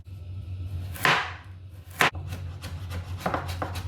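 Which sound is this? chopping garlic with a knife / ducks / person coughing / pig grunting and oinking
chopping garlic with a knife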